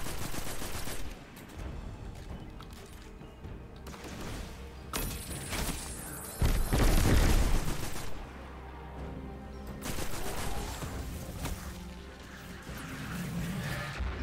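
Gunfire in Destiny 2, scattered shots and rattling bursts with a louder crashing blast midway, heard fairly close amid game sounds.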